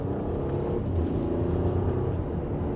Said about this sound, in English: let's give this a small acceleration from second gear